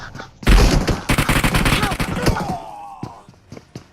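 Shotgun and other gunfire in the mobile battle-royale game BGMI: a dense burst of loud, overlapping shots over about two seconds, followed by scattered single shots and game effects as it tails off.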